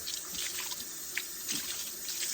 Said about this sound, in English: Let me rinse my rag, make sure it is all